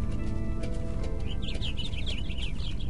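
Chirping birds in the video game Minecraft, a burst of rapid high tweets rising over steady loud game music and ambience.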